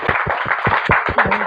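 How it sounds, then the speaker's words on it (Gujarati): An audience claps together for a family at a bhajan gathering held for a father's tenth death anniversary in Halol, with a steady rhythmic patter of hands at close range and no talk. "ત્યારે પરિવાર માટે એક તાળી થઈ જાય."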